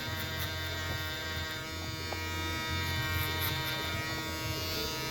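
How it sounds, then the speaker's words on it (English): A balding trimmer buzzes steadily and loudly while cutting hair, its motor hum holding constant throughout with slight shifts as it moves through the hair. "Trying to use the balding trimmer, and this one we're gonna use from the bottom up."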